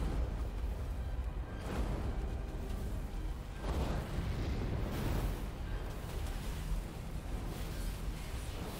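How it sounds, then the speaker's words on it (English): A World of Warcraft Fire Mage's Living Bomb spell explodes in PvP, heavy rumbling blasts with low booming bursts recurring over a dense, continuous wash of combat noise. "Living bomb there."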